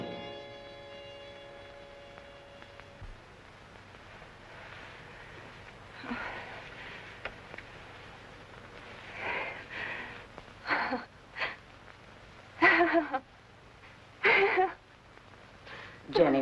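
A sick man recovering from a fever breathes with a labored, wheezing rasp in a 1946 film noir drama, slow breaths growing louder and more strained toward the end, with talk around them.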